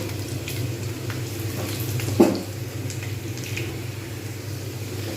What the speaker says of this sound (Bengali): আর একটু ভাজবো একটু লাল করে ভাজবো